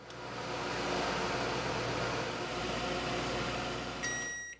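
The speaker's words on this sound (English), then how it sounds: "so we'll set the microwave for 12 minutes for these three ears" A microwave oven on high power cooks three unshucked ears of corn on the cob, giving a steady, even hum throughout with a brief electronic beep near the end.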